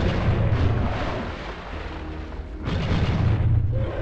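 A flashbang going off in the Nightmare Creatures game as a loud, sustained roaring blast with rumbling debris, fading slightly before a second surge of booming noise, close and with no talk over it.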